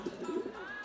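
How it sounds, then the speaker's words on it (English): A pigeon coos softly in a short, low, rolling phrase of a few murmuring notes, faint and alone. "A pigeon."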